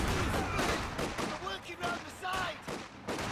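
Vickers machine gun fire in the Company of Heroes 2 video game, rapid bursts of shots mixed with other battlefield gunfire, with a commentator talking over it.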